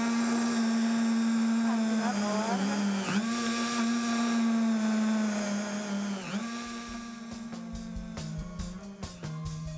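A small rotary tool drills little holes at low speed, giving a steady, close whine with brief dips where the bit bites, then fading into clattering handling noises near the end.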